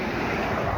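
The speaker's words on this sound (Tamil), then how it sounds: "பிகாஸ் சில்லுன்னு காற்றடிக்குது" Cold wind blows outdoors during a walk, a steady broadband rush of gusting air buffeting close to the microphone with no one speaking.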